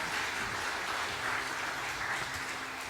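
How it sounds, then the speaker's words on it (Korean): A church congregation claps after a choir's hymn during Sunday worship, a short even wash of applause heard from within the sanctuary. "박수 한번 해주시기 바랍니다."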